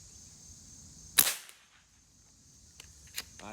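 A Kral Puncher Jumbo .22 air rifle fires a pellet once, giving a single sharp, close crack with a short decay, followed by a faint smaller tick a couple of seconds later.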